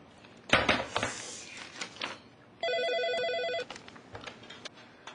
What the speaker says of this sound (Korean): 예고 없이 걸려온 한 통의 전화.